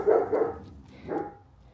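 A dog barks outdoors on a cold, rainy day in Central California, two or three close, loud woofs, the last one softer and trailing off.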